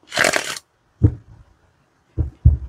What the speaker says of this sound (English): So it is nice to shuffle.